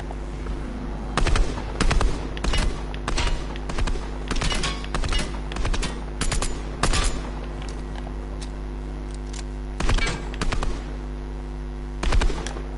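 Gunfire aimed at a target in Fortnite, in short repeated bursts of sharp rapid shots separated by brief pauses, loud and close over a steady background hum.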